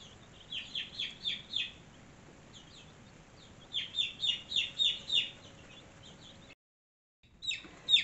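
A flock of chickens clucks and calls in a coop, with young chicks and a cockerel among them; bursts of clucking come in rhythmic runs, pause, then resume over a steady low background hum.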